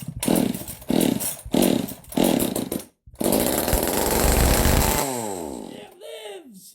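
A restored chainsaw is pulled several times in bursts, then fires up and runs with a loud steady roar for a few seconds before revving down; voices are heard near the end.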